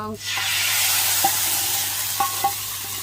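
Loud, continuous sizzling as hot tadka hits a pot of kadhi, a steady hiss with a few light clinks of a spoon stirring.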